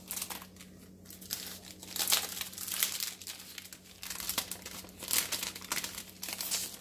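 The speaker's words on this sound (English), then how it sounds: "Sorry for all the noise of the wrapping." Plastic wrapping on a monthly stamp and die kit crinkles and crackles as it is opened by hand, close and fairly quiet, in irregular bursts with no talk.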